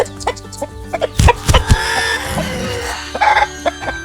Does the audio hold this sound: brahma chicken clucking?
yes